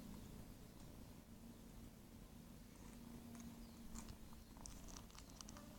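A cat purrs continuously and close up while nursing on a dog, a low steady rumble with faint rustling and soft wet sucking sounds over it.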